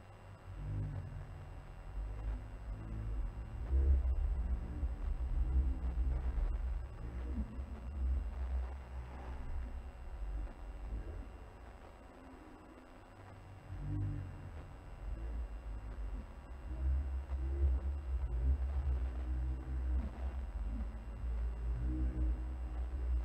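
A reversed, heavily slowed blooper recording forms a low, murky rumble with smeared, warbling drawn-out tones, faint and continuous with slow swells and dips.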